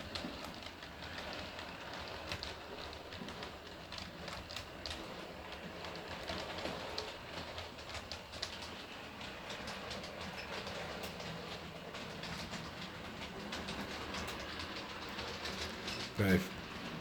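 Model railway train from an East Port layout, still needing a run-in, rolling steadily along the track with a continuous broadband rumble and faint clatter, moderately close, with occasional speech-like sounds over it.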